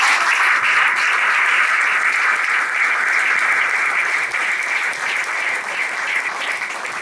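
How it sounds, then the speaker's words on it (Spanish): A church congregation applauds the Lord during a sermon at ICEPMA, a steady, loud roar of many clapping hands that holds unbroken throughout with no voices over it. "Un aplauso fuerte al Señor."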